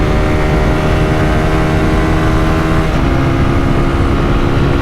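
A TVS Apache RTR200 motorcycle in fourth gear drones loudly and steadily at high speed, its engine note holding a constant pitch with a slight drop near the middle, heavy wind rush underneath.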